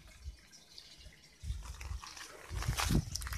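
Water pours into a nearly full aquaponics tank, a steady low splashing and trickling that swells in surges, loudest toward the end.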